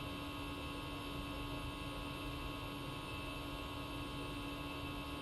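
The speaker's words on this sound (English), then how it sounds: "Your invisible passengers don't like the loud engines." Steady loud drone of airliner jet engines in the X-Plane 10 flight simulator, likely a Boeing, a continuous broadband roar with a low hum holding evenly throughout, with no voices.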